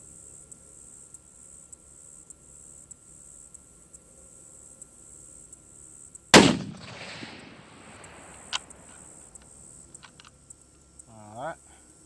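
A Ruger Hawkeye rifle firing Federal ammunition gives one sharp, loud shot with a ringing decay, set against a quiet background with faint clicks and a couple of small knocks afterward.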